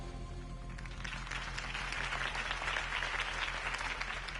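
Crowd applause for Harvey Dent's campaign speech in the Batman Telltale video game swells from a low murmur into dense, sustained clapping, steady and fairly close.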